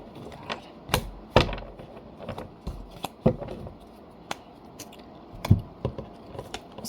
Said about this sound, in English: let me try to shuffle a few of the oracle cards out.